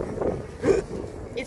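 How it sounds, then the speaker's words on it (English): Wind buffeting a microphone outdoors while a drone is flown, giving a low, uneven rumbling rush with gusty swells under talking voices. "It's windy."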